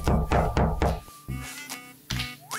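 Knocking on a door: three firm, evenly spaced knocks, then a couple of duller thuds a moment later, close and loud with no talking.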